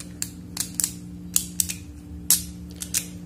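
Sharp plastic clicks from assembling a Beyblade Random Booster Vol.24 spinning top, about a dozen crisp snaps in an irregular rhythm, close and fairly quiet over a low steady hum, with no voices.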